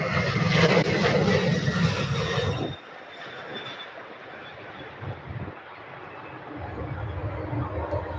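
Airliner taking off at Louisville airport, loud engine roar fading after a few seconds into a distant rumble, a voice speaking briefly over it.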